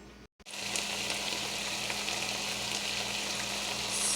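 Onions and seasonings sautéing in a pot for curried jackfruit seeds give a steady close sizzle with soft crackle, starting after a brief silent gap and running evenly with no talk.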